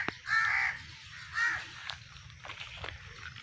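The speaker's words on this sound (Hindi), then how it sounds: "कब्बे है, कब्बे इधर घूमते हैं बस" Crows cawing outdoors in a quiet village setting: two drawn-out harsh caws close by, followed by fainter, scattered calls in the background.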